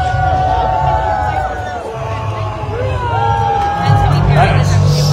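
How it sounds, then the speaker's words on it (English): Crowd at a Viking skirmish festival in York, with voices and cheering swelling under a loud announcer who talks over the noise, plus some low rumbling background. "will you give a hearty cheer and lend your support to the Ravens?"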